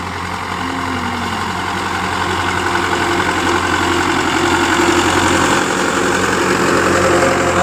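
A Belarus tractor engine drones steadily while pulling a FARMKING disc harrow through a field, a loud, close, continuous mid-pitched rumble with a faint knocking texture and no pauses.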